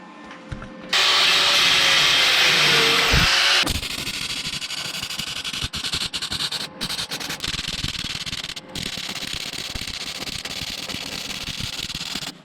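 An angle grinder works welded steel for a large grille on a Żuk van, giving a loud, continuous harsh grinding whir with a brighter opening burst, then a steady rough hiss with scattered scraping clicks.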